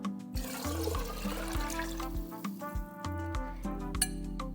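Water from a tap runs into a bowl while making pasta fagioli, a steady splashing stream with shifting gurgling tones as the bowl fills, close and fairly quiet, with no talk over it.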